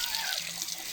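Cold spring water from a farm runs in a continuous splashing trickle, close and fairly soft, with no voices over it.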